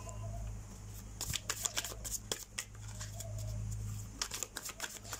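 Tarot cards shuffled by hand in repeated quick riffling bursts, close and clear over a steady low background hum, with pauses between bursts.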